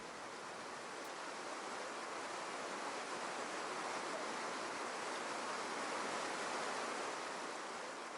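River water flowing steadily on a hot day, a constant broadband rush with no breaks, fairly faint and even throughout.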